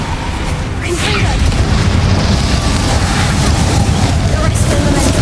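Infringo spell blast from Hogwarts Legacy, a booming game explosion with a rumbling burst that carries on through the clip under loud background game noise.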